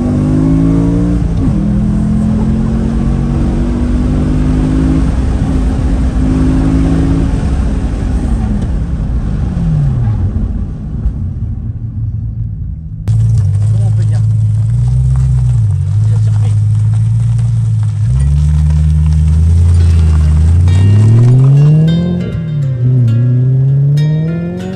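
BMW M3 E92 engine revving hard and dropping through heel-toe downshifts while drifting, loud and continuous with rising and falling pitch sweeps and a brief lull near the middle.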